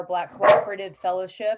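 A pet dog gives one sharp bark in the middle of a person's speech, close and loud, with talking on both sides of it.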